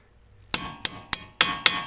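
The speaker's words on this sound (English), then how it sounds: "I'm going to try to hammer this off here" Five sharp metallic hammer strikes on the steering joint of a 2002 Audi S4, spaced about a third of a second apart, close and loud with brief ringing after each blow, no talk.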